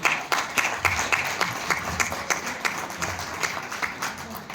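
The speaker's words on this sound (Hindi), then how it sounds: "तो एक बार रियो के लिए जोरदार तालियां।" Audience applause for Rio fills a hall at a training event, with steady, dense clapping from many hands running throughout at a loud, even level.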